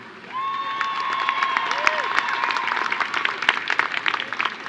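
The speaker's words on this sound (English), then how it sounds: "Another cheer for Christopher." At a 2018 new student convocation, a crowd cheers and applauds an award recipient: steady loud clapping with whoops and shouts building and continuing throughout.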